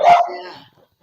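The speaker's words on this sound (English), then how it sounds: "Is your dog okay?" A single close, loud bark from a dog, with a short ringing tail that fades out within the second, heard alone.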